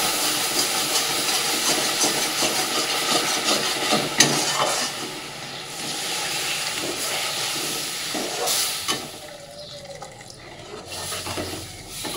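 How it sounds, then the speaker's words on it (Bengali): Milk is poured bit by bit into hot caramel in a pan on a gas stove, giving a steady hissing, steamy sizzle that runs throughout and eases toward the end, with no talking. "এবার আমি দুধটা অল্প অল্প করে এর মধ্যে মেশাতে থাকবো।"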